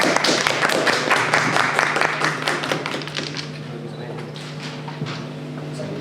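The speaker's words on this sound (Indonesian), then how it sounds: "tepuk tangannya semuanya untuk Sigit" An audience at an exhibition talk show claps for the moderator, a burst of applause that is loud at first and gradually thins out, with a voice speaking over it.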